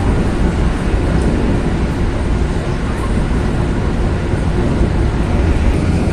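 Gajayana passenger train rolling past at close range, a dense continuous rumble and rail roar holding steady from start to finish with no voices.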